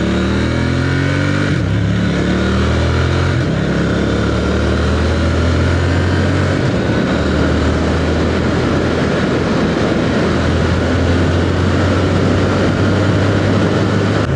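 A Triumph Speed Twin 1200RS motorcycle pulls away from first gear, its engine note rising and dropping through repeated gear changes, loud and steady throughout with no talking.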